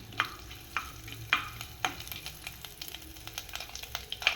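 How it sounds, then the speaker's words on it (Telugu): Cumin, mustard seeds, chana dal, urad dal and a dried red chili fry in hot oil as a tempering, a soft close sizzle punctuated by sharp popping crackles and occasional stirring, no talk. "ఆయిల్ కొంచెం వేడైన తర్వాత పోపు గింజలు వేసుకున్నామండి."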